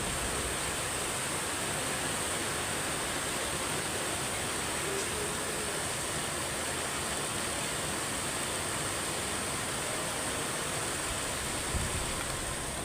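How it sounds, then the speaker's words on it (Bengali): Heavy rain pours steadily during an evening downpour, a dense, constant hiss with wind-driven spray against the windows, loud and unbroken throughout. "এত জোরে বৃষ্টি হইতাছে"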